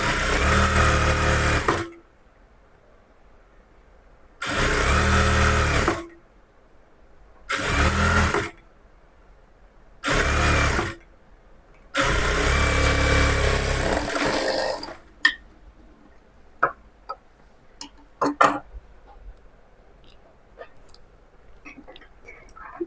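A sewing machine stitching along the edge of a blouse piece: five loud mechanical whirring bursts of varying length with short pauses, followed by quiet, scattered clicks and handling sounds.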